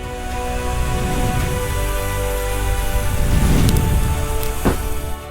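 Heavy storm rain pours steadily in an alley, a dense, loud, continuous hiss with low rumbling and a brief sharper splash or crack near the end.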